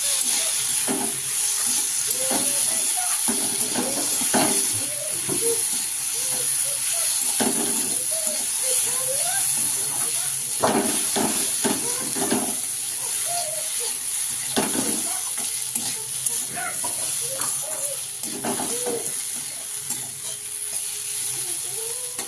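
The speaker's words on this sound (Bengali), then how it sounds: "এই যে আমার আলু ভাজিটা হয়ে আসলো প্রায়" Potatoes frying in a little oil with ground chilli in a pan give a continuous close sizzle and hiss, with repeated scraping and clacking as a spatula stirs them throughout.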